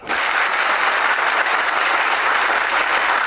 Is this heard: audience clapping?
yes